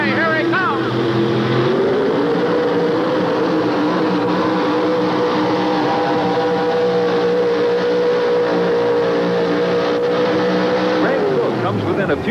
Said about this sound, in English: 640 cubic inches of Chevrolet horsepower. It's a 1988 Chevrolet. Here he comes.